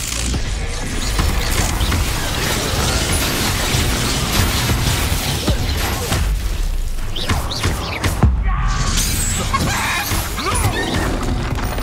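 Spell blasts and explosions crash and boom continuously in Hogwarts Legacy combat, loud dense impacts layered with bursts and rumbling under intermittent spoken incantations.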